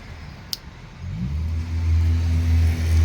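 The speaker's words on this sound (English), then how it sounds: "please pardon the wonderful traffic noises" Road traffic passing outside a home craft room: a low engine rumble swells after the first second and holds steady and loud as a car accelerates nearby, with a brief sharp click early on.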